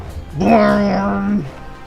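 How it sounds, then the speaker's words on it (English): A short electronic whine of a power outage in the video game Jade Empire, with a steady tone and a sliding overtone, rises and then cuts off, lasting about a second. "That's the sound of a fucking power outage."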